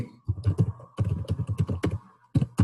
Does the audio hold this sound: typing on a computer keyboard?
yes